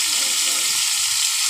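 Potatoes fry in a pan for chicken tinola, giving a dense, steady crackling sizzle that stays close and loud through the brief moment.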